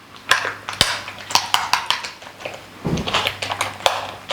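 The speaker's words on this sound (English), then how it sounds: "It's like you are whisking." A whisk or spoon clatters rhythmically against a bowl while mixing bread omelette batter with pepper and salt, a quick series of close, sharp clinks.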